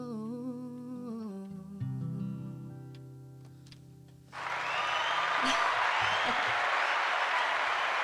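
A crowd at the Grand Ole Opry bursts into loud, sustained applause and cheering, rising abruptly midway after a quieter musical stretch and holding at full strength to the end.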